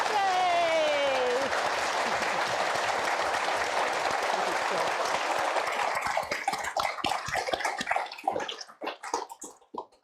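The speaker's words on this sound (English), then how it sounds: "And first of all, a big round of applause for Alina." An audience at a book festival conversation event bursts into applause after the talk, a dense wash of clapping that thins into scattered individual claps toward the end, with a voice speaking briefly at the start.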